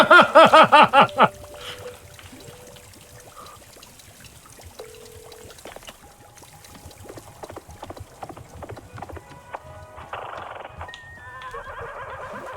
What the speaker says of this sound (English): Yep, you're definitely listening to a horse.